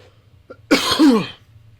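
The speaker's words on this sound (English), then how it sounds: "sorry, I'm coughing a lot here." A single harsh cough, close and fairly loud, with a short rasping tail, in an otherwise quiet room.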